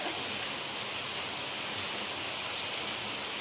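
Steady rain pours outside in a village during the rainy season, a dense, even hiss of drops on surfaces, continuous and moderately faint with no voices.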